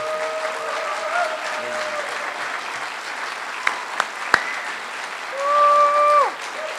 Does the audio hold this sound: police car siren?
no